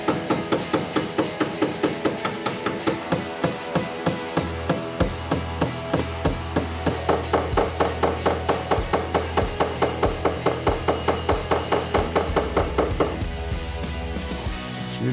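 Steady rhythmic tapping of a non-metal hammer knocking a dent out of car bodywork, dozens of even, close blows in a continuous beat with no talking.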